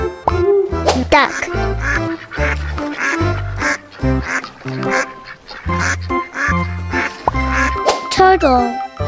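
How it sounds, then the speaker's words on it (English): A duck quacks repeatedly in a children's animal video, the calls loud and close, set among lively music and a child-like voice. "Duck."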